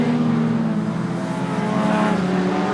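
Mini stock race cars circle a short track, their engines droning loud and steady with a low throbbing hum and a slight rising pitch, heard from a moderate distance without commentary.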